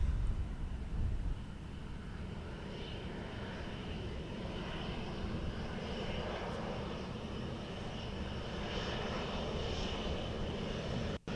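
An airliner landing at Dublin Airport, its jet engine roar a steady distant rumble held across the whole stretch, fairly faint and unbroken, with no voices.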